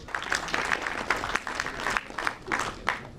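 Audience applause at a university welcome ceremony during a camp inauguration, a steady wash of many hands clapping with sharp individual claps popping out, moderately loud and continuous throughout.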